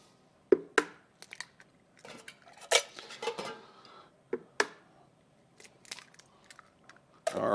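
Four eggs cracked and added to freshly ground pork in a kitchen: sparse, sharp taps and clinks of shell and bowl, some in quick pairs, quiet and close with near silence between them and no talking.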